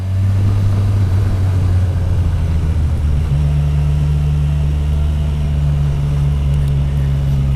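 Kawasaki Versys 1000 SE GT motorcycle on a test ride, its engine droning loud and steady throughout with a low harmonic hum that shifts pitch partway through as the revs change, wind rush behind.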